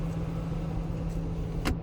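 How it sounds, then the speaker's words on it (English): A continuous electric window motor whir hums steadily inside a TVR Griffith 430 car, ending in a short sharp thunk as the window reaches its stop. "Speedy window for a Griffith."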